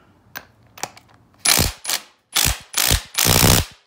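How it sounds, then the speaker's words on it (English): Impact wrench hammering on a 17 mm nut of a Yamaha YFZ450 engine, two light taps followed by four loud, close rattling bursts in quick succession, each lasting a fraction of a second. "now we can just snag this baby with the impact and be done with it. It'll pop right off."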